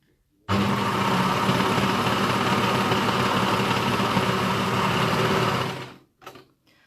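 A sewing machine runs in one continuous stretch of about five seconds, stitching down a folded fabric edge into a tube, a steady close whir that stops abruptly, followed by a couple of faint clicks.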